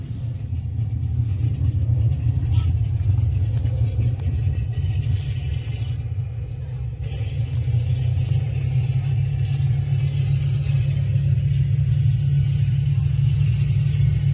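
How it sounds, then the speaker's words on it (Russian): A steady, loud propeller aircraft engine drone with a deep low rumble, constant throughout with no pauses, played as a cockpit sound recording in a museum. "изначально мы слушали звук мотора самолета"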